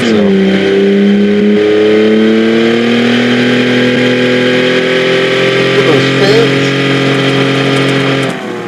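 A Chevrolet Captiva S engine revs loudly and close up in one long, sustained pull, its droning pitch dipping slightly and then holding steady before cutting off at the end.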